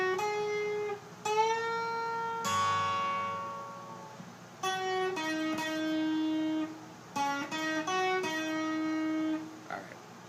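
Electric guitar playing a solo phrase from a rock song, with clear bent and sustained single notes in a slow, spaced melodic line, played alone at moderate volume.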